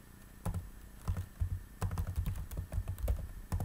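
Rapid keystrokes on a computer keyboard while entering short words into small spreadsheet cells, with irregular clusters of sharp clicks at close range and no talking.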